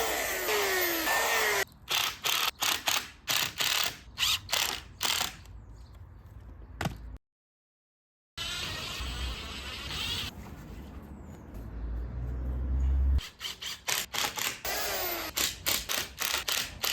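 A screw is driven into a natural, unstraightened wooden stick for a hand-built children's playhouse, giving bursts of power-driver whirring in repeated short pulses with a pause partway through.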